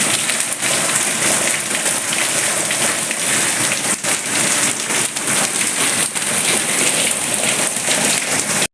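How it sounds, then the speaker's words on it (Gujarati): Heavy rain drums continuously and loudly close by, a thick rushing wash of drops with no pauses. "આખો ખાસ વરસાદ આવે છે"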